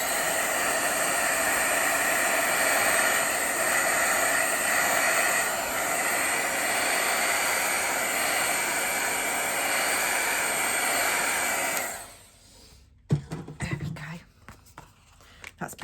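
A heat tool dries a freshly stamped paper card from the back, giving a steady, close whooshing hiss for about twelve seconds. It then cuts off, leaving faint handling clicks and taps.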